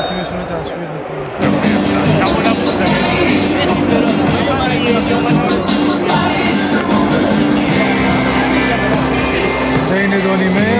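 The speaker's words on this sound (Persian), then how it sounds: "خیلی کم هستن ولی اومدن همه تیمشون رو تشویق می‌کنن" Small group of Atalanta supporters at Stadio Olimpico in Rome, a dense wash of crowd noise and chanting that swells suddenly after a quieter opening and then holds loud and steady.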